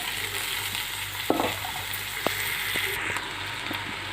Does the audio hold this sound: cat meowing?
no